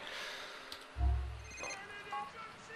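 A phone rings during gameplay of Grand Theft Auto 4 on PC, a short electronic ringtone burst with a low thump partway through, fairly quiet overall.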